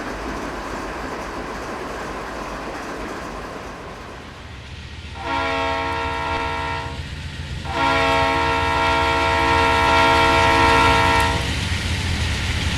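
Norfolk Southern GE Gevo and Dash 9 locomotives hauling coal hoppers in the Railworks train simulator: a steady rumble of rolling cars, then two loud, sustained horn blasts, the second longer and stronger.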